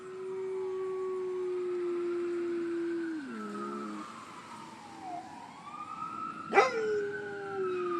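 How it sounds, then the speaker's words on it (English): An emergency siren from a fire truck or ambulance wails and slowly sweeps in pitch while a dog howls along with it, the howls rising and wavering, with a sharp yelp near the end. "So when Chief would hear a fire truck or an ambulance, he started to sing, and he could carry a tune."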